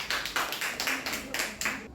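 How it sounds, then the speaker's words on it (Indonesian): Short burst of applause from a small audience at a university teacher-training presentation in Pontianak, a handful of hands clapping in a loose, uneven rhythm at moderate distance, with no talking. "Baik, kita berikan aplaus."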